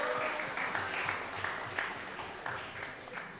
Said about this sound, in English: Clap it up one more time for Sam Morrow